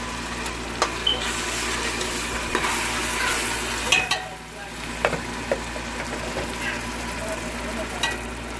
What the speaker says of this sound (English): Next thing, you're gonna fry it now.